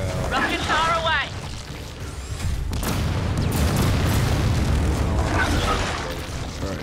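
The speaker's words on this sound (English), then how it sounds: "There we go. Rockets are away." Rockets launching and exploding in the shooter game Gears of War 4, a rolling series of heavy booms and blasts that rumble continuously, with a player talking over the opening moments.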